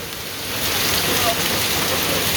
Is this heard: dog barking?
no